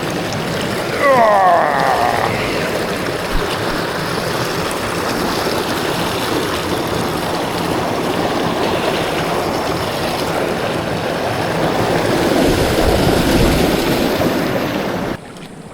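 A small brook in the middle of Paddy's River runs with a steady, close rushing wash of water that stays loud throughout, with a brief higher whistle near the start.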